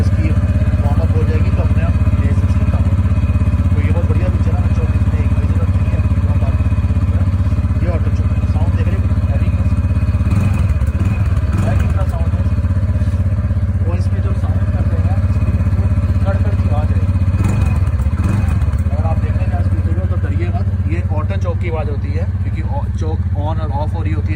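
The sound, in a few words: TVS Ntorq scooter engine racing on auto choke after start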